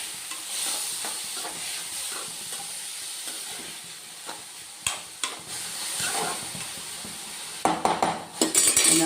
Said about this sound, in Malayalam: നമുക്കിത് വഴറ്റാം.